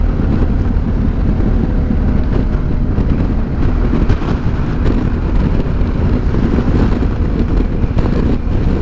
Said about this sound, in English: It's quite a windy day today actually.